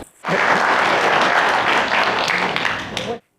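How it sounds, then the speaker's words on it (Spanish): A live audience breaks into loud, thick applause that runs for about three seconds without a break, then cuts off abruptly into silence. "Denle un gran aplauso, ¿de acuerdo?"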